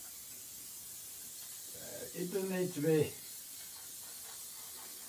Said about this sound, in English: So we use a bit of hairspray, spray